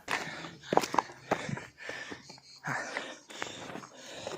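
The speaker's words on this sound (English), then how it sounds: "Also, heavy breathing ASMR." Heavy, labored breathing close to the microphone while hiking uphill to a fortress on the Adriatic coast, with rhythmic puffing breaths and faint crunching steps underneath.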